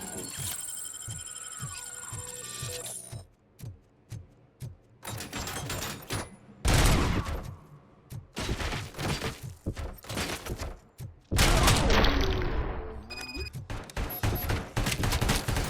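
ED-209 opens fire in the video game RoboCop: Rogue City, loud sustained automatic bursts and heavy impacts pounding close with rhythmic machine-gun stutter, layered over game hum and explosive crashes.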